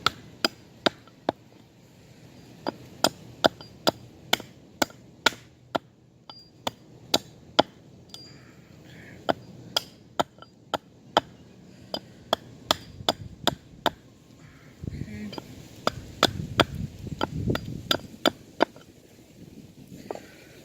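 Sharp, crisp knife or hatchet chops strike wood while a spoon is shaped outdoors in a park, coming as a steady series of separate close knocks over a quiet background.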